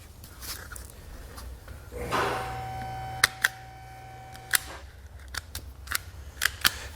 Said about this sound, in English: I'm going to cut that wire in half, and we'll strip back both ends of it.